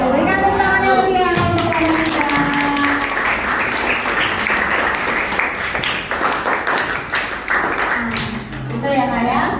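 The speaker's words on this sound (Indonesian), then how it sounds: "Berikan tepuk tangan yang meriah." A classroom of Indonesian students claps after a group presentation, with talk at the start and end and a stretch of lively, slightly uneven clapping in between.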